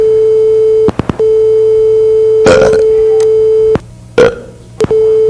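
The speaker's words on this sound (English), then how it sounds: "Those are some fantastic belches" Two loud, close belches, one long and rasping and a shorter one after it, cut into a steady electronic tone that drops out and returns between them.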